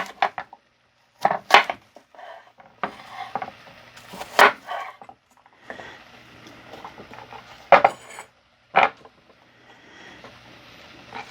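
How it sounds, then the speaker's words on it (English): A kitchen knife chops through turkey fillets on a cutting board, with a series of sharp, irregular knocks and short scrapes that stand out clearly and close to the listener. "So we're just going to line these up and cut across them."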